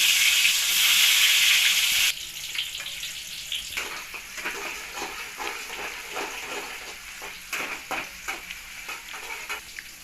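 Tomato pieces dropped into hot oil in a pan for a sprouted moth bean and mung curry give a loud opening sizzle that settles into steady, softer frying with small crackles and pops, close by and without speech.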